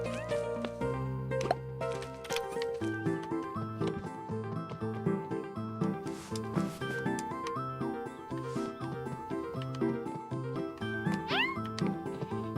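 A cat meows in the video game Staxel, sitting over continuous, layered game music with a rising cry near the end.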